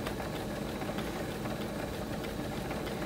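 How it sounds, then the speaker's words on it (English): A sewing machine runs continuously nearby, zigzag stitching through rope to build a bowl base, a steady dense mechanical whirr with no pauses and no talking. "you just sew zigzags until all the rope is sewn"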